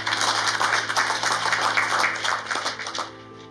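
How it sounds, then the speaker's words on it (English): An audience at a Mandela Day community event at a clinic in Alexandra breaks into steady, dense applause, with many hands clapping close by for about three seconds before it thins out and trails off. "give them a round of applause"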